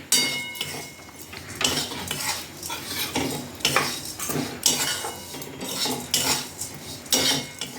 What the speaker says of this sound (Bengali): এই তো এই যে মায়ের এরকম নাড়ছে